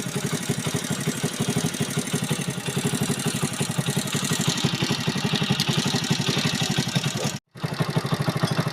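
A motorcycle engine idles steadily after a carburettor adjustment, giving a loud, even rapid putter close by with a brief cut-out near the end.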